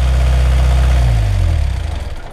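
A loud engine idles with a deep, steady throb, then winds down as it is switched off, and the low rumble falls in pitch and fades out.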